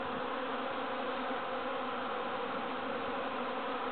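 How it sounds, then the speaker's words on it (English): A swarm of bees fills a backyard with a dense, continuous buzzing drone, steady and close, with no talk over it. "You're standing in the middle of a hive."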